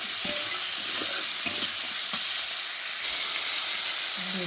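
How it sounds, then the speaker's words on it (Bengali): Potatoes and shrimp frying in a pan, a loud continuous hissing sizzle with a few soft scrapes and knocks of stirring, no voices. "তো আলু আর চিংড়িগুলো একটু ভালো করে ভেজে নিতে হবে লাল লাল করে।"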